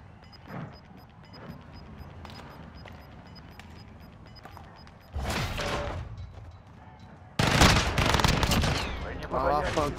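Three-round-burst gunfire in Call of Duty: Modern Warfare, growing louder and more intense toward the end, over a busy background of game sounds and occasional talking.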